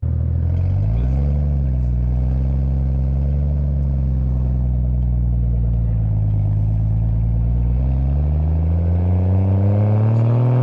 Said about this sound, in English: I would like to get some like exhaust notes of how this thing sounds